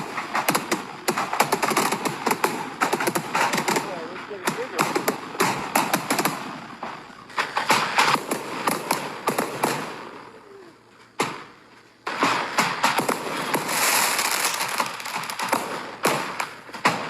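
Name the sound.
fireworks exploding at a house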